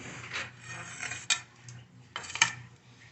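A mason's trowel taps and scrapes against fresh plaster render on a wall, giving two sharp metallic clinks over a soft gritty rubbing, close by with no voices.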